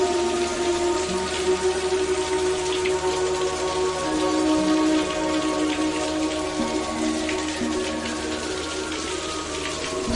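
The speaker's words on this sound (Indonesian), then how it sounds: "Sore itu adalah sore yang diguyur hujan rintik-rintik." Steady light evening rain patters on a surface, a constant close hiss of drops with a faint low rumble beneath and no voices.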